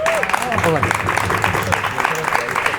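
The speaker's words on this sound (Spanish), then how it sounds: "Sí, un fuerte aplauso." Audience applause at a talk at a club, a dense wash of clapping that holds steady throughout while voices talk and call out over it.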